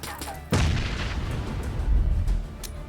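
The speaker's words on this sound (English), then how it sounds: "Hold on to it as long as possible if you want it to explode on impact." A frag grenade goes off in the PUBG battle royale game with a single loud, deep boom about half a second in, followed by a long rumbling decay that fills the rest of the short moment.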